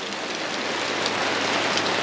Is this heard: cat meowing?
no